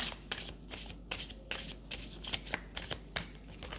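Tarot cards being shuffled up close in short, crisp riffling bursts repeated at a steady rhythm, with no voice over them.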